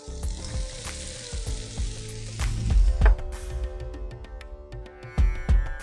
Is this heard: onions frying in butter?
yes